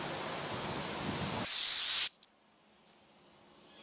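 Guide coat primer sprayed onto a Chevy Silverado truck body: a steady airy hiss from a spray gun, rising into a brief louder burst before cutting off to near silence with small clicks.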